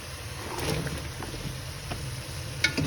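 Potatoes frying in hot oil with mutton for aloo gosht, a steady broadband sizzle holding at an even level throughout, with a few faint clinks near the end and no talking.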